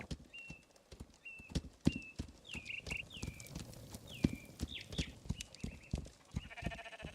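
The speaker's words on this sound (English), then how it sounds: "Actually, I am going to take the horse." Horse hooves clip-clop in the video game This Rising World, a quiet, steady run of hoof knocks accompanied by short repeated chirping calls from nearby animals, no speech.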